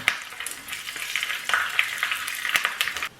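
Curry leaves dropped into hot oil for a cucumber pachadi tempering crackle and spit close by, with sharp popping bursts over a steady sizzle.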